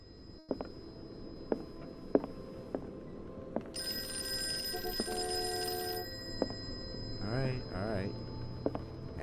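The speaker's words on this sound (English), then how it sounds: "It's an old style phone." An old-style telephone bell rings in the Call of Cthulhu video game, a shrill steady burst lasting a couple of seconds amid footstep-like clicks, followed by a brief voice.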